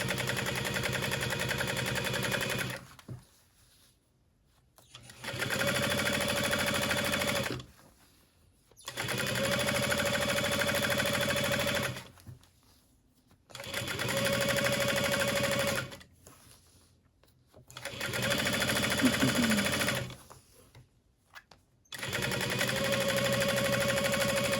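A sewing machine stitching bag straps at stitch length 5, running in steady bursts of two to three seconds separated by brief pauses, a close, even mechanical rattle repeated five times.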